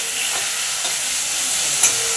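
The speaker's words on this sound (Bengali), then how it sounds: "পেঁয়াজ আদা রসুন যেটা খুশে রেখেছিলাম সেটা আমি কড়াইয়ের মধ্যে দিয়ে দিলাম" Onion, ginger and garlic paste frying in a kadai, a steady close sizzle with light stirring scrapes and a sharp clink near the end.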